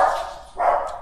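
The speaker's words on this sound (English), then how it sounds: "My dogs heard something at the door." A dog barks twice in quick succession indoors, loud and close, reacting to something at the door.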